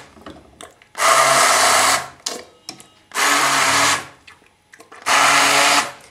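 A kitchen blender pulse-grinds mustard greens coarsely in three loud, steady bursts of about a second each, separated by short pauses with faint clatter.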